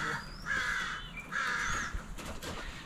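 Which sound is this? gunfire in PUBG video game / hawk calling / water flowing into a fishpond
hawk calling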